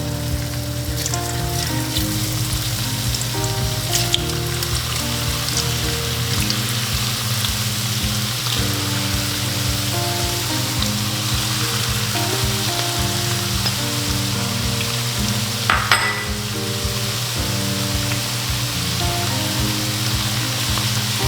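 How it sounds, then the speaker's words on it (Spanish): Potatoes fry in preheated oil for fast-food-style fries, a dense, continuous sizzle and crackle close by, loud and steady throughout with occasional brief pops and no talking. "Lo que yo voy a hacer es freír las papas."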